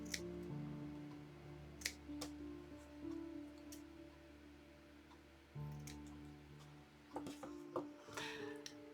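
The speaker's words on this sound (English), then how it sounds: "I'm just going to cut them individually" Scissors snip through artificial black branches for a Halloween wreath, giving a few faint, sharp cuts over a steady low background hum, with no talking.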